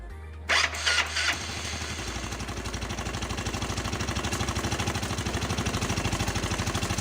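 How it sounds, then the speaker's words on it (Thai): A Yamaha Mio 115 scooter with a faulty starter that drives the wheel forward is cranked with a brief whine and catches, then settles into a close, steady, pulsing idle. "ตอนแรกนะครับ สตาร์ทล้อมันจะหมุนไปหน้าเลย"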